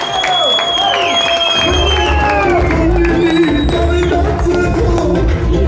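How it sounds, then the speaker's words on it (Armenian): A party crowd claps and cheers loudly and continuously, with whoops and shouts over the clapping and voices calling out. "Դա հավեսով ծափեր տվեք մեր հզոր զինվորի համար"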